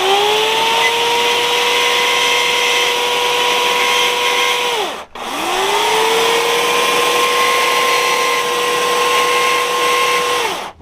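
Arbortec mini carver power tool cutting into wood: a loud, steady high-pitched motor whine held for about five seconds, a brief stop, then it spins back up and runs steadily again.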